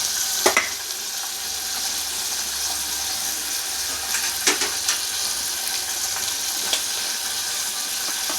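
Water poured into a pan of sizzling tomato and ivy gourd curry, producing a steady moderate hiss and bubbling with a few sharp clinks of utensils against the pan.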